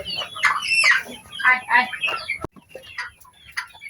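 Village hens cluck and squawk excitedly in bursts close by as they crowd around for an afternoon feed of rice and grain on a small poultry farm, with quieter clucks afterward.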